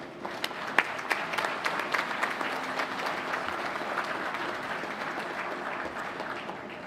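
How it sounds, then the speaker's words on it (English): Applause from the audience at a naval ship christening ceremony honoring a color guard and Marine Corps band, a steady wash of many hands clapping at moderate distance with a few sharper claps early. "let's give a big round of applause for our Color Guard and Marine Corps Band San Diego"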